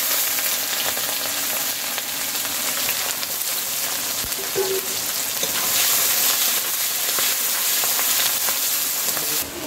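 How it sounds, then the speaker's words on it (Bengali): Onions frying in hot oil with whole garam masala and bay leaves, a steady, close, even sizzle that runs throughout with a few faint utensil knocks and no talking. "পেঁয়াজ ভাজা হয়ে গেছে"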